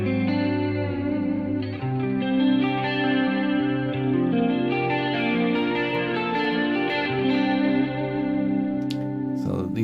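An electric guitar played through a Vi pedal into Guitar Rig 5 rings out sustained, heavily processed chords with distortion and chorus-like shimmer. It stays loud and dense, with note changes and a brief pick scrape near the end.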